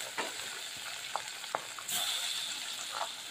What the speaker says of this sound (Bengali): এখন আমি তেলের মধ্যে ভাজবো।